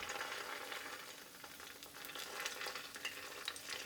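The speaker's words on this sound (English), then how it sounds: "Then soak it in the oil and slice the patties gently." Tofu patties (ganmodoki) sizzle and crackle steadily in hot frying oil, a dense bright hiss with scattered pops, close and continuous with no voices.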